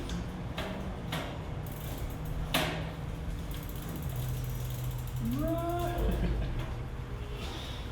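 A bicycle chain is run through after lubrication, the freewheel ratcheting with quick clicking bursts and mechanical rattles close by, plus a few sliding squeaks near the end.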